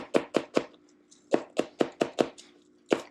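A knife chops scallion whites into little pieces on a board, about nine sharp close strikes that come in quick bursts with short pauses between them, and no talk.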